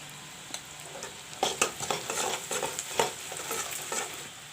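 Sliced onions fry with turmeric powder in a pan, a steady close sizzle with scraping stir strokes and clinks from the spoon against the metal, no voices.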